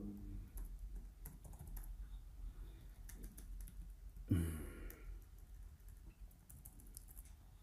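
Someone types a page name on a computer keyboard at a desk: a steady run of soft, quiet key clicks under a low background hum, with one louder thump partway through and no talking.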